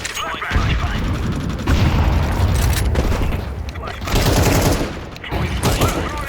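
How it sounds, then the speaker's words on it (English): Grenade blast and heavy gunfire in a Counter-Strike 2 firefight, dense continuous booms and shots filling the whole stretch loudly, with a voice calling out throws over the din. "Throwing a grenade."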